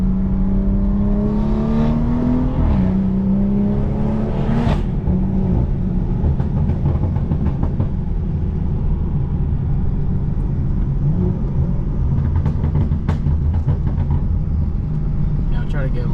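A straight-piped BMW 340i rumbles loudly from inside the cabin while driving, its engine drone climbing in pitch, dropping on a shift, then settling into a steady low roar.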